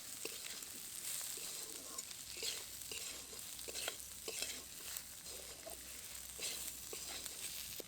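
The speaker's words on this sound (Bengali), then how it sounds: "এখন আবারও খুব ভালো করে নাড়াচাড়া করে নেবো" Onions and spices sizzling in a hot pan while a spoon stirs and scrapes them in repeated strokes, close and fairly quiet.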